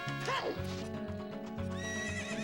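A horse in The Legend of Zelda: Ocarina of Time gives a loud, close whinny that rises and falls, with hoofbeats and steady game music beneath it.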